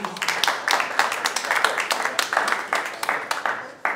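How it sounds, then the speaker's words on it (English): An audience at a fireside chat event claps in a brief, steady round of applause, many hands close together, with a voice speaking over it. "Applause, a round of applause, please."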